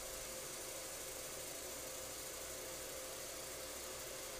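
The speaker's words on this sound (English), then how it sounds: "Then it's a case of using my homemade bowl sander, running through all the grits." A homemade bowl sander works a turned wooden bowl, giving a faint, steady whirring hiss that runs without a break the whole time, with no talking.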